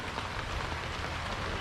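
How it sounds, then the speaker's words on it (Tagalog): Heavy rain pours down outdoors, a dense steady hiss of drops drumming on surfaces with no pauses and no voices. "Dumating na yung ulan. Umulan na naman guys."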